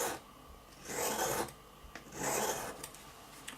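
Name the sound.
sharpening a travel knife blade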